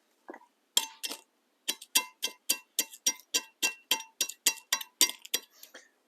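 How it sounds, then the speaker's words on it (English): A screwdriver scrapes and taps rust chunks off a brake part from a Chevy Silverado, giving a close run of about fifteen short, sharp metallic clinks in a steady rhythm with brief gaps, no voices. "take a screwdriver and take these chunks off and get it cleaned up before I put it back on"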